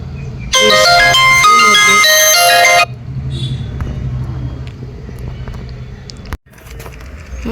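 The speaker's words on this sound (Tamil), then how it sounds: "ஏதோ ஃபோன் வந்துச்சு" A phone ringtone plays loudly for about two seconds as a bright, tonal electronic melody over a low background hum, then stops, leaving quieter room noise.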